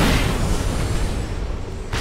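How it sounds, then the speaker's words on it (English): A dense, roaring explosion fills the whole moment in StarCraft 2 as a platform blows up, a loud continuous rumble with crackling debris that barely lets up. "You mean platform explosion?"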